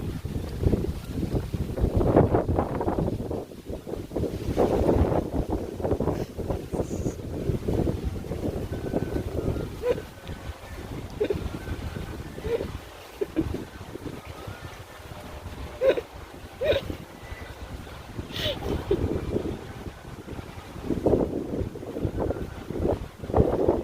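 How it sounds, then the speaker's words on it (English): Strong wind buffets the microphone outdoors in loud, uneven gusts that roar and ease over about twenty-four seconds, with a few faint sharp sounds in between. "Just wondering why it's so windy."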